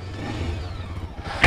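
A 2022 Yezdi Adventure BS6 motorcycle engine idles with a low, steady throb. A louder rev bursts in at the very end, with no talk.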